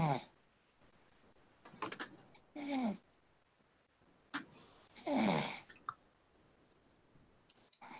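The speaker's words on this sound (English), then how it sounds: "Snoring." Snoring in short separate bursts, a few rasping breaths spaced out across a quiet stretch with small clicks between them, faint and close.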